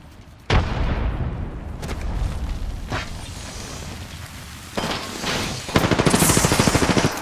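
A grenade blast and gunfire in Apex Legends: a sharp explosion followed by scattered shots and booms, then a rapid burst of automatic fire near the end, loud and close.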